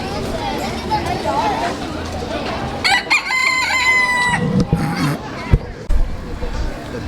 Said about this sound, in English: There's chickens just walking around here.